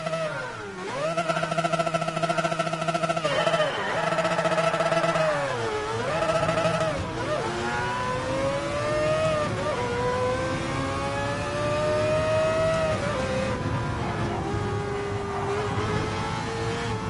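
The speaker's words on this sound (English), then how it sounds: "they did an absolute tremendous job capturing the sound of this car." A car engine in the GT Sport racing game revs up and down through repeated gear changes, its rising and falling whine loud and close, with no talking over it.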